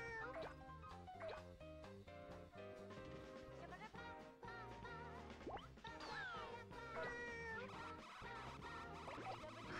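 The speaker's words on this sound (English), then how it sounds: "Twin cats." Two cats meowing in the video game Katamari Damacy, bright tonal cartoonish meows sliding up and down in pitch, layered over continuous game music throughout.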